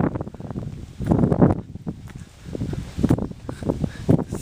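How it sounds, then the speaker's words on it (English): Wind gusts outdoors during a walk, buffeting the microphone in rough, rumbling surges that swell and ease, one strong burst early and further blustery waves later. "Oh, there's a gust."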